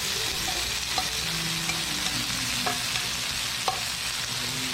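Jeju black pork grills over a wood fire with a dense, constant close sizzle and occasional soft ticks and pops.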